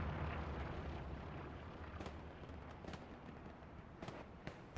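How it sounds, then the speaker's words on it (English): Deep, rumbling explosions roll from a bombing run in the Hell Let Loose video game during a night battle. A dense, continuous low boom is broken by a few sharper distant cracks. "Bombing run coming in over Cobru for TFMC"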